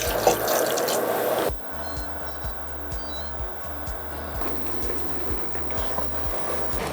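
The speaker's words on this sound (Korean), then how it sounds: "여기다 물 넣고 끓여줄게요" Water poured into a pot holding rice cakes, fish cakes and green onion for tteokbokki: a loud rushing pour for about a second and a half, then a sparse run of close drips and trickles.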